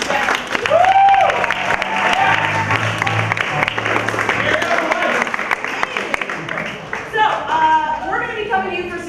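An improv comedy show audience breaks into applause for a performer: a dense, sustained wash of clapping from a full room. Someone speaks over it at first, and voices rise again near the end.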